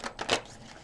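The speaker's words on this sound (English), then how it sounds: "I'm going to shuffle them 3 more times." Tarot cards being shuffled by hand make three quick, faint riffling bursts in under a second, close by and with no talk.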